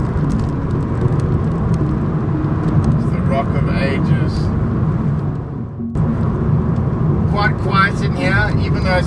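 A new Opel Adam Rocks car cruising at speed around 120 with a fabric roll-back roof, steady road and engine drone continuous throughout, with a person talking over it.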